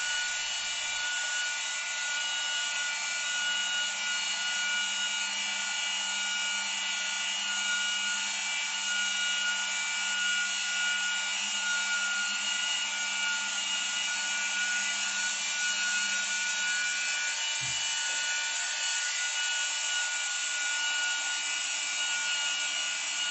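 A Ford Fiesta windshield being machine-polished to remove wiper scratches, giving a continuous, even whirring hum with a faint low drone that runs unbroken and loud throughout, with no talking.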